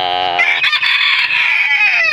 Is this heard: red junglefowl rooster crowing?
yes